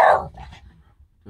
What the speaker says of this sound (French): Oh là là, il y a des chiens.